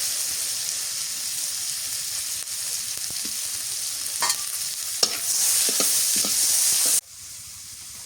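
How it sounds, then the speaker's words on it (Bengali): Onions fry crisp in hot oil, sizzling steadily close by while a utensil stirs and scrapes through them in scattered clicks, and the sizzle drops abruptly near the end. "আমি কটা পেঁয়াজ বেরেস্তা করে নিই।"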